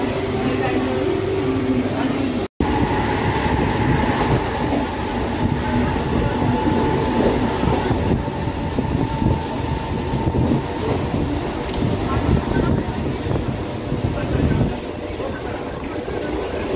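A train stands at a station shortly before departure, with a steady low rumble and hum of the carriages, a clattering, echoing ambience and people talking nearby, a brief dropout interrupting the sound early on.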